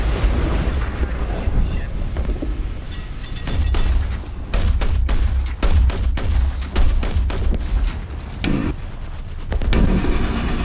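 Naval guns fire repeatedly during a War Thunder sea battle involving Italian ships, a run of loud booming shots and blasts in irregular succession over a constant rumbling backdrop, with a voice talking intermittently.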